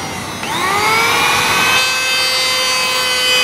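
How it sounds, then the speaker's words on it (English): A power planer spins up and bites into wooden beams aboard a steel boat, a loud close whine rising in pitch and then holding a steady harsh cutting roar, with no talking. "time to do a little bit of planing. Actually, a lot of planing."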